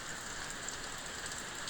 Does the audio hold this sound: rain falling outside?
yes